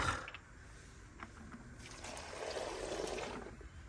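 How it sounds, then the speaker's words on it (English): Dirty water pours out of the tank of a clear Vax 3 in 1 vacuum cleaner outdoors, a steady trickling splash that swells louder over the last couple of seconds. "I'm going to take this outside and pour it out because the water in here must be filthy"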